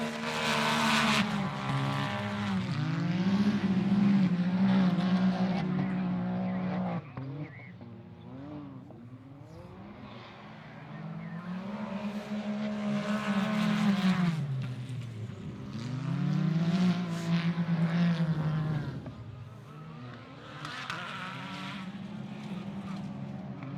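Side-by-side off-road race vehicles at the 2025 Outlaw Series Finals SXS Championship at America's Outdoor Adventure Park roar around the dirt track, engines rising and falling through repeated loud revving passes and gear changes, near and sustained.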